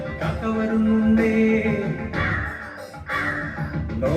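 A crow caws several times, harsh and fairly loud, within a musical backdrop in a children's song about Noah's ark.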